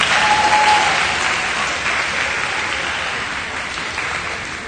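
Audience applause at a high school awards day ceremony, a steady wash of many hands clapping that starts loud and slowly thins over several seconds, with no talk over it.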